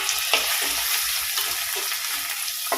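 Onion, tomato and green chili sizzle as they are sautéed in a pan for a fish masala roast, a constant hiss broken by a few scraping stirs, heard up close with no talking.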